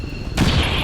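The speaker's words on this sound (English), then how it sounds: "Explosion." A frag grenade blast in the tactical game XCOM 2 (Long War 2 mod), a single sudden loud burst cutting in after quiet and holding as a broad roaring rumble to the end.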